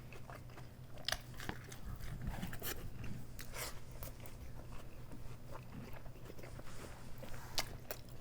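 Close, quiet crunching bites and chewing of a crunchy beef taco supreme, with sharp crackles scattered through steady mouth sounds and no talking.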